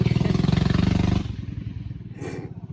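Motorcycle fitted with a new exhaust revs hard with a rapid, throbbing pulse, then the engine drops back to a lower idle burble as it passes nearby.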